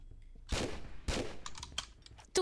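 Gunfire in the PC game Tomb Raider 3, in the meteorite cavern level, comes as two sharp, loud shots followed by a cluster of quicker, fainter pops and clicks.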